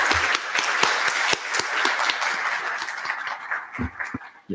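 Audience applause for a student government senator, a steady burst of clapping with sharp individual claps standing out, no speech, tapering slightly toward the end.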